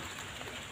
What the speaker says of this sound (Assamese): এয়া বৰষুণ টোপাৰ পানী পৰিছে